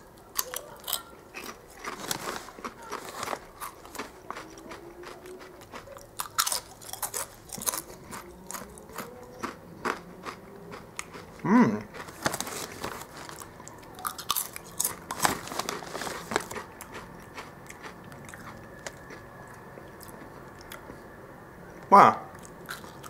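Kettle Chips lime and black pepper crisps crunched and chewed close up, with sharp irregular bites and scattered crackling over about twenty seconds, including two loud distinct crunches.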